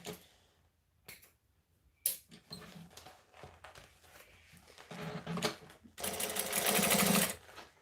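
A sewing machine top stitching fabric while sewing a whippersnapper toy, running in short stop-start bursts of close, rapid mechanical whirring with light clicks between them, then a longer, louder sustained run near the end, with no talking.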